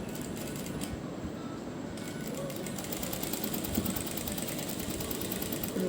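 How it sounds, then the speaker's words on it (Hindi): Sewing machine stitching continuously along the edge of a boat neck on a garment, a steady fast mechanical whir and needle chatter running throughout at moderate level, with no talk over it. "हम पूरे नेक में किनारे किनारे पर सिलाई लगा दें"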